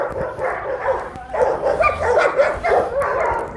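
An eight-month-old dog on a farm gives close, excited barks and high yips in rapid bursts, fairly loud, over a steady background hum.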